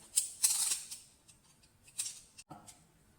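Electrical wire is cut while a wall socket is being changed, heard as a few quiet, close snips in quick succession, then a single soft crisp click.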